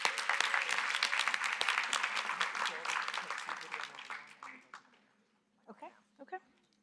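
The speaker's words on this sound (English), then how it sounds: "So let's give them one more round of applause." At an awards and recognition luncheon, an audience claps: a dense burst of applause that thins out and fades after about four seconds, then a few scattered claps and brief voices.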